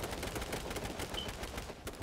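Rapid automatic gunfire from H1Z1 rattles in a quick, steady stream, moderately loud and close, over a short stretch.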